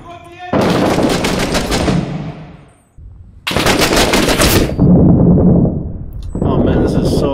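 Loud bursts of rapid automatic gunfire in the war shooter game Six Days in Fallujah, two long sustained volleys broken by a short pause, then another burst, close and dense.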